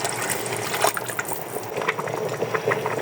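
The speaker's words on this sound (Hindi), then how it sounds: "चावलों के साथ ही मैं 1 गिलास पानी का गरम वो शामिल करूँगी।" Hot water poured from a glass into rice for a green chickpea and potato pulao, a steady close splashing and trickling with no talk.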